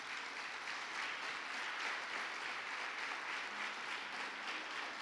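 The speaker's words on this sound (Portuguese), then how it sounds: "Vamos aplaudir ao Senhor?" A church congregation applauds together in a steady, dense wash of clapping that holds at an even level throughout, with no one speaking over it.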